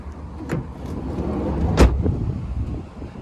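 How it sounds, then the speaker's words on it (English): A sliding door on a 2017 Toyota Tarago GLi people mover is opened and closed. A soft click is followed by a louder sliding thump, heard close up with no talking. "The doors slide super easy on them as well"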